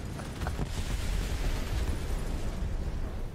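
Bombs exploding in War Thunder, a heavy, continuous low rumbling roar of blasts that stays loud and dense across the whole few seconds, with no talking.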